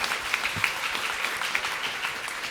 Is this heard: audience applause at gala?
yes